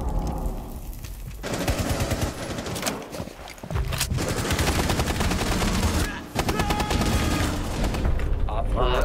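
Automatic rifle fire in Rainbow Six Siege rattles in loud, dense bursts with short pauses between them, heard close and dominating the mix.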